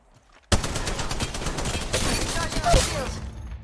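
Rapid bursts of automatic gunfire rattle during an Apex Legends Mobile match, loud and dense, with a sudden onset and repeated shots blending into a sustained barrage.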